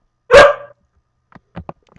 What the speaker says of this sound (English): There's my dog's howling.